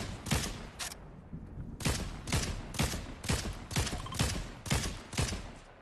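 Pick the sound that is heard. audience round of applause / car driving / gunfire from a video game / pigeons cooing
gunfire from a video game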